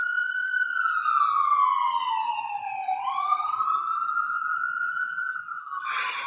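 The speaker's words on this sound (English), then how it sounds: "People have often asked me why it's so loud, so many sirens outside my window." An emergency vehicle siren drifts in through an open window, wailing steadily with a slow rising and falling pitch, clear and fairly close, cut off by a brief noise burst at the end.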